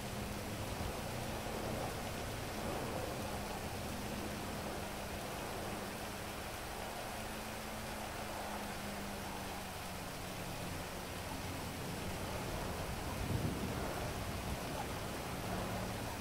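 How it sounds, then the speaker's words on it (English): Steady rain pours in Grand Theft Auto V, a dense, even hiss running throughout with a low rumble underneath; no distinct thunderclap stands out. "It's raining out here."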